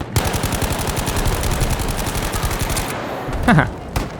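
Rapid automatic gunfire from the World War II shooter Battlefield V rattles in a dense, loud, steady burst for about three seconds, then breaks into a few sharper single shots near the end.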